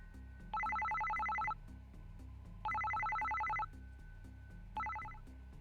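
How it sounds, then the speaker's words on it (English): A cell phone rings in the visual novel game Psycho-Pass Mandatory Happiness, three bursts of a bright trilling electronic ringtone, each about a second long, over a soft low background music bed. "Suddenly, it seemed like Shinori's cell phone started ringing."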